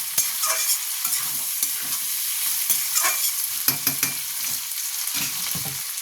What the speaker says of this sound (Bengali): ডাঁটা দিয়ে এগুলোকে একটু ভাজবো